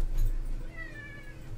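A house cat gives one thin, drawn-out meow over low room rumble, faint and alone, with no speech.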